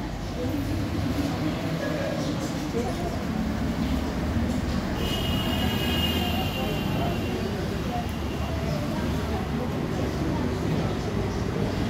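A passenger train carriage rumbles with a continuous, steady roar while people ride on board.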